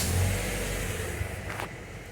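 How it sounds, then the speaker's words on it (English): A 2011 Subaru Legacy with a vacuum leak starting up, a brief crank followed by a low, steady engine rumble at close range. "I'm gonna start the car."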